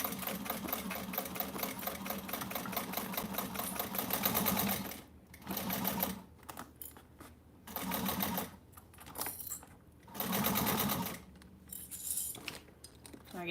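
Sewing machine stitching a seam along a bag flap, running in a steady whirring burst for several seconds, then in short start-stop runs separated by brief pauses, close and fairly loud with no talking.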